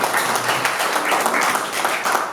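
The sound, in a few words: audience applause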